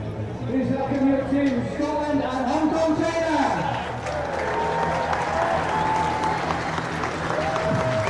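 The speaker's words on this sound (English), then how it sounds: "Out come the sides to warm applause from a sizable crowd here in Hive Stadium." A sizable stadium crowd applauds warmly at Hive Stadium as the Scotland and Hong Kong China under-20 rugby sides come out at the 2024 World Rugby U20 Trophy, with a commentator talking steadily over the broad, continuous clapping.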